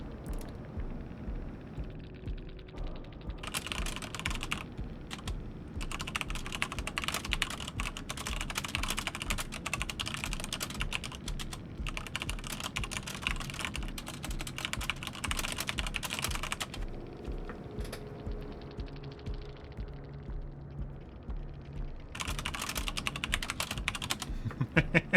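Rapid, steady typing on a computer keyboard at close range, with dense clattering bursts broken by short pauses over a low background hum, and no talking.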